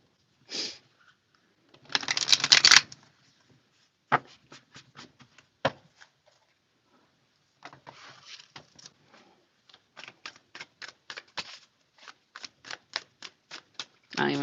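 Tarot cards are shuffled in quick papery riffles and ticking flicks, stopping and starting, close and fairly quiet.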